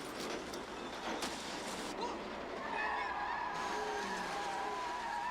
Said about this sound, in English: there's a person in a car that's just been hit really badly